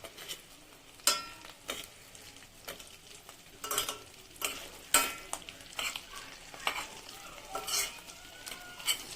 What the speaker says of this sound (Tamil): நிதானமாக அப்படியே அசைக்கி விட்டு